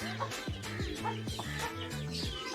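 A desi rooster on a farmhouse property clucks in a steady run of low, throaty calls, close and alone with no talking.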